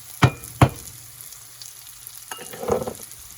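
Onions frying for chicken biryani, cooked until translucent in a pan, with two sharp sizzling bursts early on, then a steady low bubbling and a swell of frying near the end, no voices.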